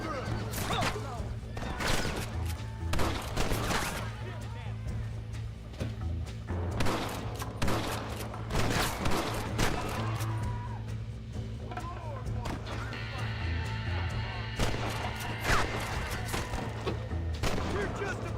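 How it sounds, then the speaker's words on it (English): Gunfire in Red Dead Redemption, sharp revolver and rifle shots in irregular bursts, several close and loud with echoing tails, over game ambience and a low hum, with talking in between. "Okay, shoot the guy just a bit first."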